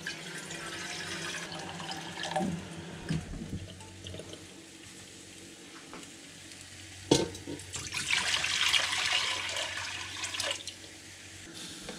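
Water being poured into a cast-iron cauldron to make brine for carp, a steady running and splashing of liquid with a louder surge near the middle, close by and with no talking.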